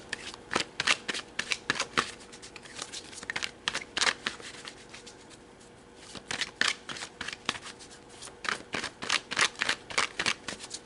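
Tarot cards being shuffled by hand, a series of quick crisp riffling bursts in an uneven rhythm with a short pause midway, close and fairly clear.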